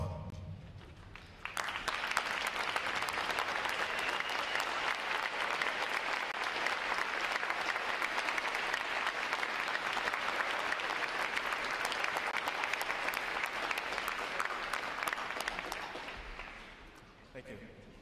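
Sustained applause from a large audience at a U.S. Navy recruit training graduation ceremony honoring veterans, steady dense clapping for about fifteen seconds before tapering off.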